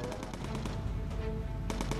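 Rapid machine gun fire from a bomber's turret in Bomber Crew rattles in quick repeated bursts, loud and close, with a short pause before a final burst.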